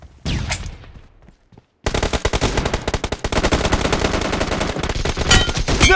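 Rapid automatic gunfire in the mobile shooter Battlegrounds Mobile during a team deathmatch: a brief burst, a moment of near silence, then a long, loud, sustained stream of shots with close, sharp reports.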